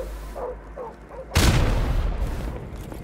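A single loud bomb explosion in Call of Duty: Modern Warfare Remastered booms suddenly after a quieter stretch, its rumble lingering and slowly fading.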